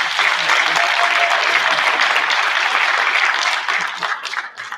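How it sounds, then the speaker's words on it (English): A crowd applauds steadily at a school board meeting in a middle school, dense clapping holding strong for several seconds before starting to thin and fade toward the end. "So a big round of applause."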